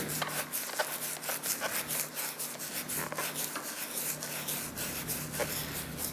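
Dirt, grime and light corrosion being scrubbed off an old hammer, a continuous rapid raspy brushing with quick back-and-forth strokes, close up and steady, no talking.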